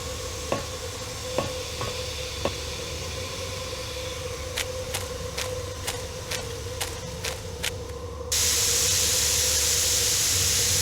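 Steam hisses from a leak aboard the Orient Express train as a steady wash of noise, with scattered clicks and taps, then swells abruptly into a louder, brighter hiss near the end.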